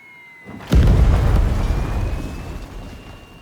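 A huge fireball explosion in the video game Tiny Combat Arena, a sudden loud boom that swells into a long rumbling roar and slowly fades.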